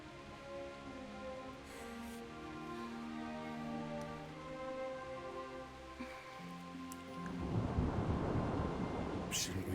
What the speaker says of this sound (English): Not afraid of thunderstorms,